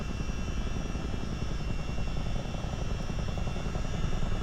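A CH-47 Chinook helicopter in a flight simulator, flying low over an industrial area of a city; a constant, dense rotor and engine roar that holds steady throughout, with no voices.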